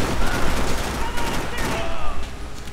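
Gunfire from the video game Max Payne 3 crackles in a loud, dense volley of overlapping shots lasting a few seconds, with game noise beneath and no clear speech.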